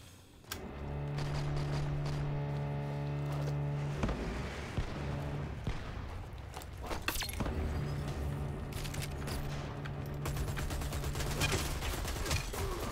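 Gunfire in the online shooter Dirty Bomb, scattered sharp shots and bursts over a sustained humming game drone with tonal layers, moderately loud and unbroken, with no voices.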